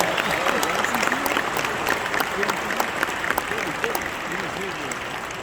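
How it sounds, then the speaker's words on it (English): An audience applauds Charles H. Ramsey, former Metropolitan Police Department chief, at an evening speech event, with steady sustained clapping throughout and a voice speaking over it. "Let's give him a round of applause."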